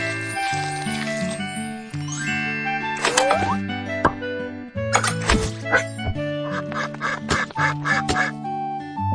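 A duck quacks repeatedly in a cartoon-style scene of a duck being treated, with plops, tinkling chimes and music mixed around the calls throughout.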